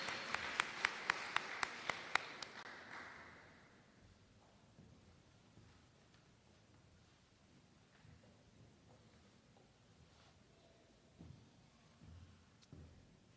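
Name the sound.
applause for a speaker at a ceremony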